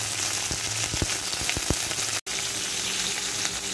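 Pumpkin and pointed gourd frying in a pan, giving a dense, even sizzle like steady rain, with a few light pops and taps scattered through it and a brief cut near the middle.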